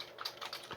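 Keys clicking on a Commodore 64 keyboard under repair with a mechanical fault, a few quick, faint taps in an irregular rhythm, close up with no talking.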